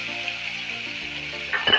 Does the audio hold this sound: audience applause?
no